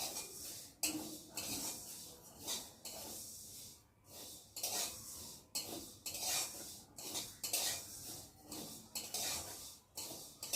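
A spatula repeatedly scrapes and stirs moong dal being dry-roasted in a pan, producing rhythmic scratchy strokes with short pauses and faint clinks, close up and fairly quiet, with no talk.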